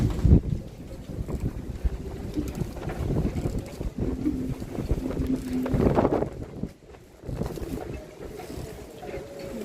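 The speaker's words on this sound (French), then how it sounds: "On entend le vent qui souffle." Steady wind roars and gusts outdoors at night, rumbling low and continuous with a few brief tonal whines and no voices.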